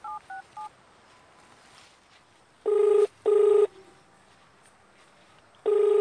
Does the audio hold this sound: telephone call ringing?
yes